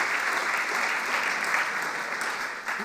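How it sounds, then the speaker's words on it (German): Steady audience applause at a panel discussion event, dense and even clapping filling the whole stretch at moderate loudness. "Gerne, Applaus."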